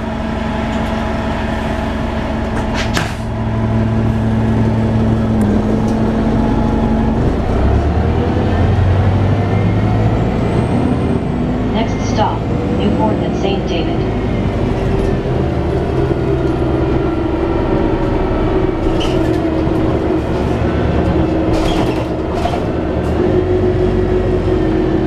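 A 1998 New Flyer D40LF BC Transit bus running, with a steady diesel engine drone and low rumble heard from on board, with gear changes shifting the pitch and occasional clunks and rattles.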